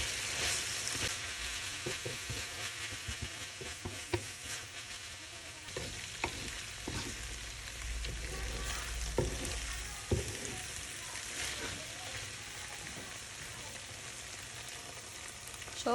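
Noodles with fried eggs and capsicum being stirred in a hot pan over medium-high flame, a continuous sizzle and fry with scraping and clinking utensil strokes at irregular intervals, close and alone.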